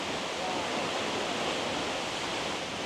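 A powerful waterfall in the Malino Highlands roars as a dense, steady rush of falling water, loud and unbroken from start to finish.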